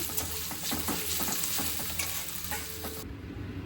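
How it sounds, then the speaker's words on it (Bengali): Eggs fry in a pan on a stovetop in a home kitchen, with a loud, dense sizzle and quick scraping stirs rushing on throughout, close to the listener and without voices. "আর এই চুলাতে এখন আমি ডিমটা ভুনা করতেছি।"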